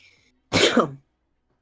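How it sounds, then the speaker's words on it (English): A single short, harsh cough bursts out close by, surrounded by near silence. "That was a weird cough I had."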